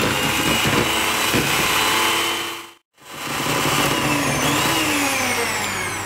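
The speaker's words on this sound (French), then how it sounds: "Et maintenant, je vais fouetter tout ça." An electric mixer whisks liquid cream for a Nutella vacherin, giving a loud, steady motor whir that cuts out for a brief moment midway and then resumes.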